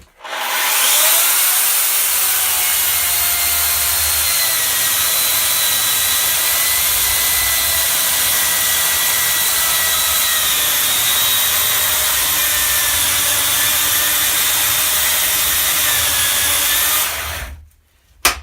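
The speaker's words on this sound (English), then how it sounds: "how well the saw can rip with the grain and deal with those big spaghetti-like noodles that come shooting out the back here" A homeowner chainsaw rips along the grain of wood, a loud sustained high-pitched buzz that runs unbroken for about seventeen seconds before cutting off.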